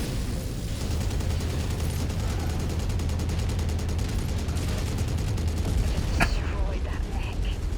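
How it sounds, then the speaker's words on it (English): Machine guns on a mech in the MechWarrior video game chatter in a fast, sustained rattle over heavy rumbling, loud and continuous with a sharp crack near the end. "Machine guns aren't very powerful, but they do a lot of sustained damage."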